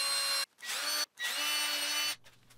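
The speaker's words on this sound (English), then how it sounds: "I also added some additional support by drilling" A power drill bores holes into wooden patio furniture parts, whining at high speed in two long close bursts separated by short pauses, pitch dipping slightly as the bit bites, then winding down.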